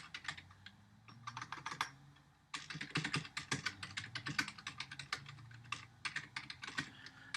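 Steady rapid keystrokes on a computer keyboard as Java code is written, close and fairly quiet, in two runs split by a brief pause, with no voice.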